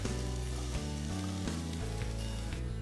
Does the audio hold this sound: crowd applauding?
no